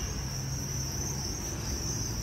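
Field crickets on a farm raising geckos, crickets and scorpions give a steady high-pitched chirping drone, continuous and fairly loud, with no voices.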